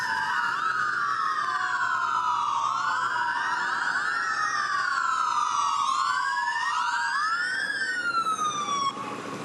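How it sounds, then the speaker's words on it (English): Several wailing sirens rise and fall, overlapping one another, loud and close as emergency vehicles pass in a parade. "Listen to those sirens."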